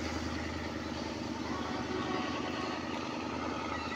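Alsthom 4419 diesel locomotive hauling train 260 at the Bang Rama halt, its engine revving hard in a steady, loud, dense rumble that holds without a break.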